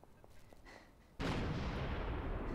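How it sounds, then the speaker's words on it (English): A loud, sudden blast at a military base gate in the video game Dead Island Riptide erupts after a quieter stretch of game ambience, then sustains a dense roaring rumble to the end. "That was a shit explosion."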